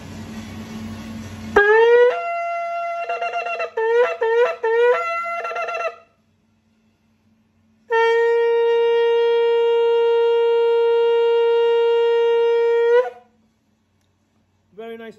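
A full natural Ashkenazi ram's horn shofar, 19 inches long, is blown in clean harmonic blasts: a few short staccato bursts, then a single long sustained tone of about five seconds, alone and close.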